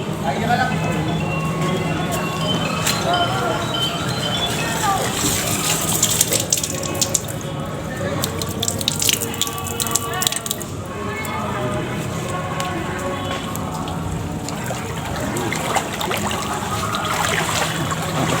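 Water runs steadily at a temple foot-washing spot, a continuous splashing flow heard under a voice talking through most of it.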